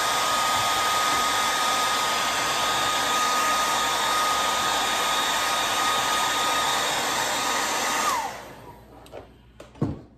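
A hair dryer blows steadily and loudly to dry vinyl prep on a vinyl surface, a constant high whoosh running for about eight seconds before it switches off and winds down.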